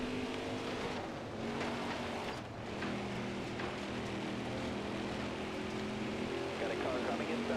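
Race car engines in a NASCAR Heat 4 stock car race drone steadily with layered, sustained tones and shifting pitch, a continuous moderate roar that stays constant throughout.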